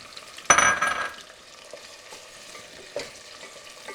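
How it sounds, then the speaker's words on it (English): Tomatoes frying in a pot with onions for lentil soup: a burst of sizzling and stirring near the start, then quieter crackle with another stir later, no talk. "And they fry a little bit, the tomato."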